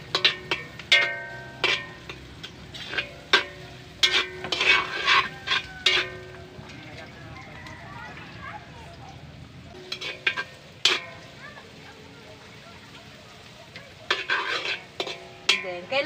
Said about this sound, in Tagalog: kailangan i-saute nyo maigi yung sibuyas at saka bawang para yung aroma